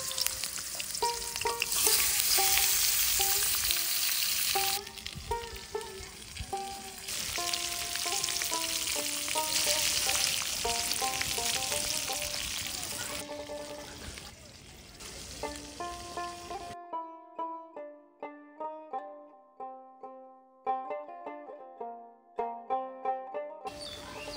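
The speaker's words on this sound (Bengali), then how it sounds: "তেল গরম হয়ে গেল, এবারে দিয়ে দিচ্ছি কাতল মাছের মাথা।" A katla fish head fries in hot oil, a loud, dense sizzle across the first two-thirds, with melodic music playing over it that continues alone after the frying fades out.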